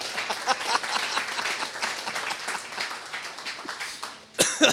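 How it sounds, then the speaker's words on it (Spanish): A church congregation applauds, steady clapping from a crowd with a few coughs, then louder scattered claps near the end. "Un aplauso para ella,"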